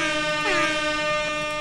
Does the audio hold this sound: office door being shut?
no